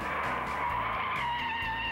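Early-1960s race cars skid and screech in the first turn of a racetrack as four of them tangle, a loud, continuous tire squeal over engine roar filling the whole moment.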